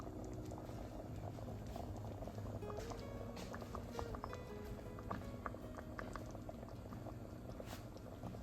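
Triple berry jam simmers in a pot with a steady, thick bubbling, a continuous close-up stream of small pops and wet blips throughout.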